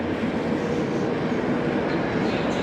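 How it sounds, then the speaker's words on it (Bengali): A train arriving at a station rumbles steadily close by, a continuous loud roar of wheels on rails with no voices. "তো আমাদের ট্রেন মোটামুটি চলে আসছে"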